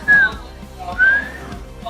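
A person imitating a whistle, two short rising whistles about a second apart, close and fairly loud against quiet background noise.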